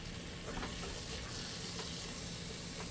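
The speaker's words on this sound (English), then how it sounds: "We're going to cook off the flour just a little bit to get that flour taste out of it." Flour cooks in a pan for a bacon mac and cheese roux, giving a faint, even sizzle with a few soft stirring scrapes.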